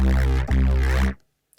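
A thick, gritty Alchemy synth patch in Logic Pro, After the Snow with the delay switched off, holds a loud low chord with a rough bright top, then stops abruptly with no echo tail.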